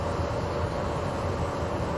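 A Rheingold passenger train runs in Train Simulator, giving a steady, dense rumble of wheels and carriages that rolls on without a break, with no talking.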